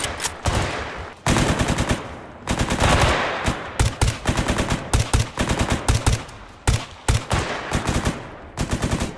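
Rapid bursts of automatic gunfire during a firefight against Monolith soldiers in STALKER GAMMA, loud and close, with repeated volleys and short pauses between them and no talking.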